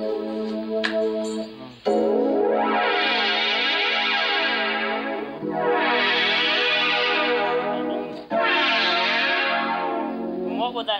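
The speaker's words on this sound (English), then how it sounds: "I've just switched it into fifths." A guitar synthesizer tuned in fifths plays strange, sustained chords, each swelling and shimmering with a chorus-like wash. Three long, loud, close strums are heard, with no talking over them.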